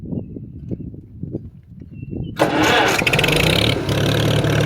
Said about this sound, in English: push this little button in to start it